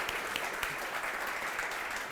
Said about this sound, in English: Let's do a round of applause for our incredible panel.